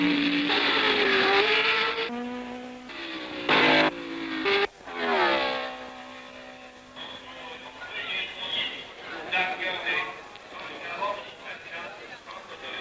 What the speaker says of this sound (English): So to the final 5 laps, virtually laps of honor for Gurney and the Porsche.